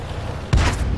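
A tank gun shot in World of Tanks: one sudden booming blast cuts in midway through the clip and rolls off into a sustained rumble.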